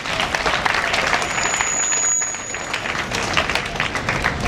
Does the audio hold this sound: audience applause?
yes